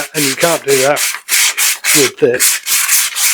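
A sheet of sandpaper is worked by hand over wood on a boat's stern arch, making loud, close, rhythmic rasping strokes, roughly a dozen back-and-forth passes with short gaps, while someone talks briefly between strokes.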